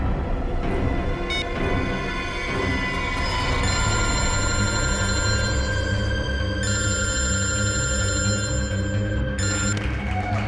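A mobile phone rings in a scene from a Hindi CID crime drama, its electronic ringtone sounding loud and steady for the whole stretch with no talking over it.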